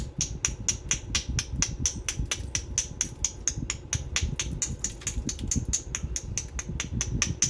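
Blue glass is knapped into a Lancelot-type point, its edge trimmed with a steady series of sharp, clicking strikes repeating close by at a brisk, even rhythm over a low background hum.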